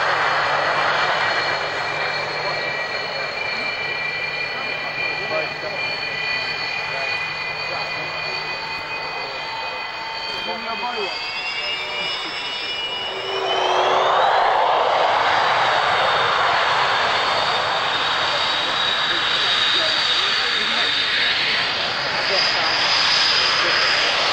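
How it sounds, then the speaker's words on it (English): A Sukhoi Su-27 Flanker jet roars through an airshow display at Woodford, its engine noise loud and continuous, with a rising whine as the aircraft passes close and the roar swells, while an announcer talks over it. "flying the Flanker, the Su-27."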